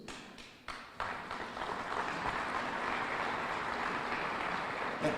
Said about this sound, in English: That applause was for Tracy.